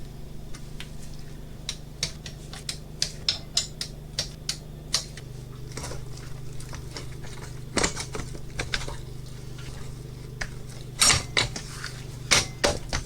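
A brake rotor is bolted onto a KLR650 motorcycle wheel, heard as scattered sharp metallic ticks and ratcheting clicks over a steady low hum, with a louder cluster of clanks near the end.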